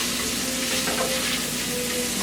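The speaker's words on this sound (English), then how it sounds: "you can tell that the shrimp is getting cooked all the way through" Shrimp cooking in a hot pan, a continuous loud close sizzle holding steady for a couple of seconds with no talk.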